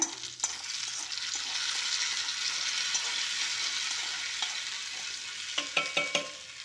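Tempering for drumstick-leaf kadaiyal sizzles in a pan, a steady close hiss of hot oil that swells and settles, ending with a few sharp crackles and spatters.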